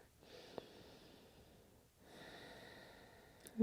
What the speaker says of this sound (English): We're going to take just one more breath here